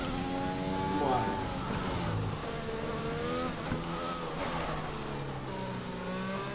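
A race car engine in the F1 2020 video game, lapping Zandvoort, whines and revs with rising and falling pitch as the car accelerates and shifts, under someone talking throughout.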